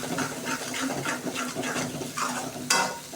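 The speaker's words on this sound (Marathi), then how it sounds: "चांगलं तेल सुटेपर्यंत चांगलं कलसायचं" Egg curry masala sizzles in hot oil while a spatula stirs it in quick, rhythmic scraping strokes, with a sharp metallic clink near the end.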